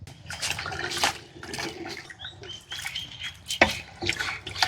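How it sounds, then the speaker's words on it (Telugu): Mutton stock and water pour into a pot of rice for goat biryani, an uneven close splashing and gurgling in several bursts. "ఇంకా రైస్కి సరిపడా నీళ్ళు పోసుకుందాం"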